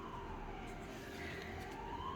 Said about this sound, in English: you hear a siren and you wonder